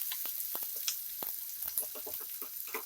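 Chopped tomatoes fry in hot oil in a pan over medium flame for a Hitikida Avarekai masala sambar, a steady sizzle broken by frequent short scraping and clicking stir strokes, close and clear with no talking.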